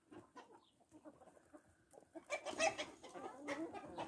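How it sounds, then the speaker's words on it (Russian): Dark Brahma chickens, a heavy meat-and-egg breed, clucking and murmuring in a loose cluster, quiet at first and then a louder burst of overlapping calls near the end. "Это мощные куры мясо-яичного направления."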